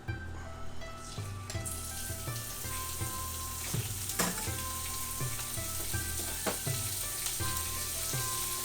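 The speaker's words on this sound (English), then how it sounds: "Put oil. Cook pork." Pork sizzles in hot oil in a pan for stir-fried udon, a steady bright crackle up close, with occasional clinks and scraping of a utensil against the pan and no voices.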